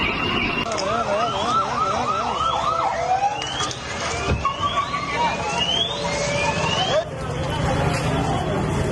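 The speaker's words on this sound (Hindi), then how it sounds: "एम्बुलेंस और फायर ब्रिगेड की भीड़ लगी थी" Ambulance and fire brigade sirens wail together near a burning building in Israel. Overlapping rising and falling tones repeat over a loud, busy street rumble with faint crowd noise.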